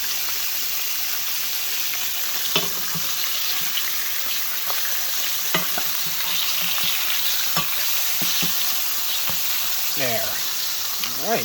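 Wild mushroom pieces fry in a pan with a continuous loud sizzle, broken by occasional scrapes and clinks as pieces are turned over; no talking.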